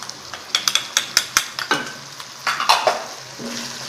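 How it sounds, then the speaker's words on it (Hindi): Spices with chili powder and salt fried in a pan, heard as a soft sizzle under repeated close clinks and scrapes of a spoon against the pan, coming in quick, uneven bursts, with no talking. "अब मैं ये सारे मसाले फ्राई करूँगी।"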